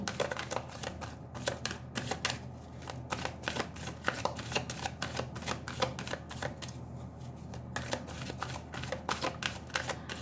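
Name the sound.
shuffling an oracle card deck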